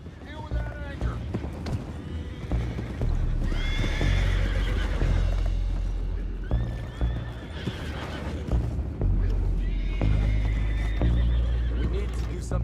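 Horses neigh and whinny repeatedly in Red Dead Redemption 2, several loud calls over clip-clopping hooves and game background noise, with voices talking at times.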